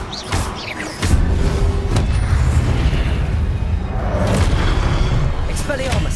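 A Confringo blasting spell erupts in Hogwarts Legacy, a loud booming blast about a second in that rolls into sustained rumbling and crackling combat noise.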